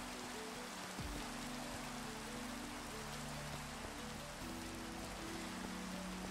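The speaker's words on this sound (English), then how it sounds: "It's raining a lot today." Steady rain pours down in the Minecraft video game, a constant dense hiss of falling drops that carries on evenly with no one speaking.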